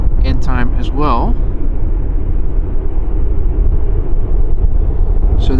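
An EasyJet Airbus A320 takes off at Amsterdam Schiphol, runway 36L, as a loud, steady low roar and rumble. Someone talks over it briefly at the start.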